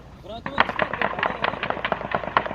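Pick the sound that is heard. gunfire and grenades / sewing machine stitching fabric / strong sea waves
gunfire and grenades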